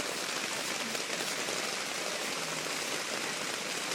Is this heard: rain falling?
yes